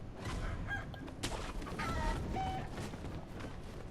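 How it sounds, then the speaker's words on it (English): A chicken clucks in the action game Sekiro: Shadows Die Twice, short scattered calls over a dense, steady bed of in-game ambience. "Get away from the chicken."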